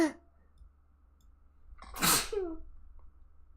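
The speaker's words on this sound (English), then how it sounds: "Sorry, I sneezed." A single loud, close sneeze from a person, with a sharp burst and short tail, set between faint breaths and low background hum.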